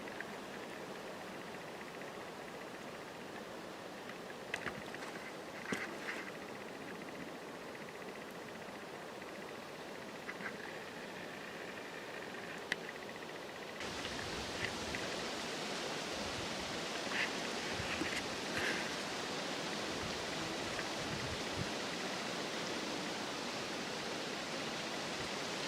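Steady broadband rush of the Simonette River flowing, a constant wash of water heard alone with a few faint chirps above it, growing louder and fuller about halfway through as the river comes closer.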